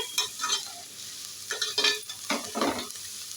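Vegetables stir-fried on a high flame in a pan for bakery-style bread toast, with bursts of loud sizzling and scraping stir strokes coming in uneven waves, close up and without talk.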